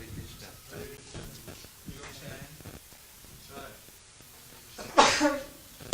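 A single sharp human sneeze bursts out near the end, loud and close, following a stretch of quiet indistinct talk in a room.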